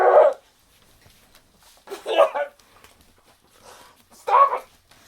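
A dog lets out three separate whiny barks a couple of seconds apart, close and loud, with quiet room sound between them.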